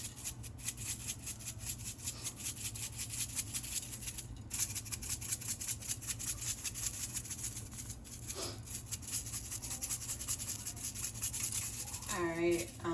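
Montreal steak seasoning is rubbed into raw steak by hand, making a continuous soft, close scrubbing and rubbing texture. A few faint squeaks come through near the end.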